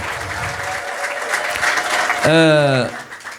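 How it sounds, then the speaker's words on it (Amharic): A church congregation claps during a testimony service, a dense steady applause under a speaking voice, then a brief sharp tonal mechanical burst near the end. "ለጌታ ክብር አጨብጭቡ"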